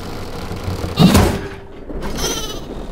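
Sheep bleat in the video game Meet the Flockers, one clear, fairly loud bleat followed by a softer second cry over a quiet game background.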